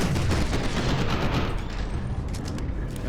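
Heavy gunfire in the shooter F.E.A.R. 2: Project Origin, a loud, continuous barrage of rapid shots and booms that thins slightly toward the end.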